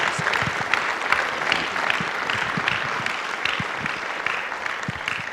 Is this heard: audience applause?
yes